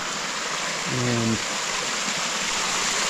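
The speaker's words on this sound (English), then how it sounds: "So this is the normal creek here." Creek water rushes steadily past a micro hydro intake, a broad continuous wash of flowing stream noise with a brief spoken word partway through.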